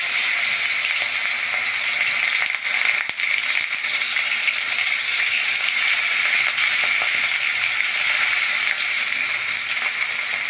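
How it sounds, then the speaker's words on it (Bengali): Fish frying in hot oil in a pan, a loud continuous sizzle with crackling spatters, close and steady throughout. "মাছটা আমি পুরো ভেজে নেব।"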